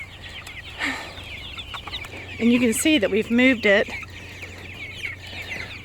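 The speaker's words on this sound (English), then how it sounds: "So there's probably 80 meat birds in this chicken tractor" About 80 meat chickens in a chicken tractor cluck and chatter nearby, several birds together, while a person speaks over them.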